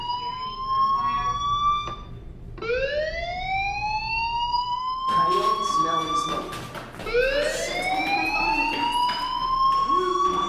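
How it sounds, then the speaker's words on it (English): A fire alarm wails in the video game Life Is Strange, loud rising siren-like sweeps repeating every few seconds and filling the whole stretch. "do you hear that fire alarm? That means you should be outside."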